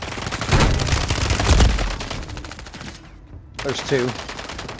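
Rapid automatic gunfire from a Call of Duty match on Rebirth Island rattles loudly through the first few seconds, breaks off in a brief near-silence and then returns with more shots, while a player talks over the action.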